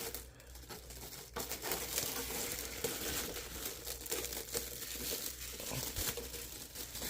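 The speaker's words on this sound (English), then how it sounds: "I'm about to do one of the satisfying things to do in RCs. Peel that plastic off." Protective plastic film peeled off a new Rlaarlo Rally XTS-F10 RC car during unboxing, making a steady, close crinkling and tearing rustle that runs through the whole stretch without pause.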